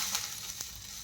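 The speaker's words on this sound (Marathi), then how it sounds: "यावरती आपण पाणी शिंपत आहे थोडं" Water sprinkled onto a hot oiled tawa sizzles in a brief faint hiss with a couple of small spits.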